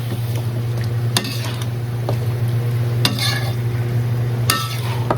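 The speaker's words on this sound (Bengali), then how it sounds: "মাংস ভাজার সময় আদা কাটা বা আদার বাটা দিয়ে দিবেন" Meat frying with ginger paste in a pan, a steady sizzle under a constant low hum, with a few sharp clinks of a utensil against the pan spaced a second or two apart.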